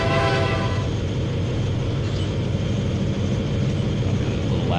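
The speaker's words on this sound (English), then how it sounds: "Got our train here, our trusty GP15," A model GP15 diesel locomotive sounds a short horn blast at a level crossing, then its steady, loud engine rumble carries on continuously.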